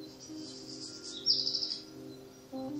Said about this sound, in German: Da sind Vögel im Hintergrund und so weiter.